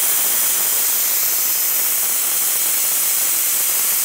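Steady, loud, close hiss of a disinfectant mister fogger spraying a wet mist, holding constant without a break.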